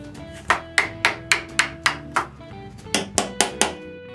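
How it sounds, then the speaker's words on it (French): Wooden dowels tapped into holes in the top of sawhorse legs, a series of sharp knocks in uneven rhythm with a short pause midway, close and fairly loud. "Ensuite, je mets un goujon dans chaque trou."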